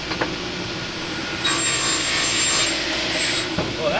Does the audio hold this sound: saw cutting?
yes